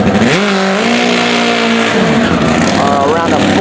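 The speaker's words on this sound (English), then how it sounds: "Nigel's on his turbocharged funny bike. Ron is on top fuel, hand built with dials." Drag racing motorcycles, a turbocharged funny bike and a top fuel four-cylinder dragbike, roar loudly with rising and falling engine pitch sweeps, an announcer talking over the racket throughout.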